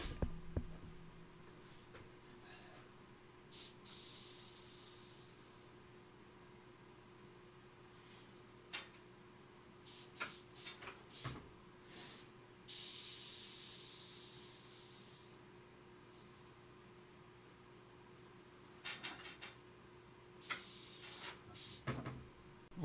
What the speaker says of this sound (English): I'm using the little air compressor.